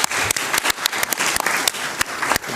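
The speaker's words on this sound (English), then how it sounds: "Please give a round of applause for our speakers." Audience applause at the IISS Shangri-La Dialogue 2024 security conference, honoring the speakers of a special session on humanitarian coordination; dense, steady clapping from a large hall crowd with a few sharper individual claps standing out.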